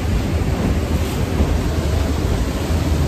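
Rhine Falls waterfall roaring up close, a loud, steady broadband rush of crashing water with no pauses.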